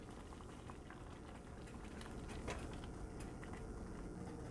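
Red beans simmering in a pot, a dense continuous bubbling and popping that holds steady and close, with no talk.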